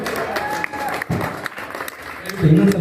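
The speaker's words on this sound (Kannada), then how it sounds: "ಇನ್ನೊಂದ್ಸಲ ಜೋರ ಚಪ್ಪಾಳೆ ಹೊಡಿಬೇಕು." Audience clapping at a public stage felicitation event, a dense crowd applause heard under a man's amplified speech and swelling louder near the end.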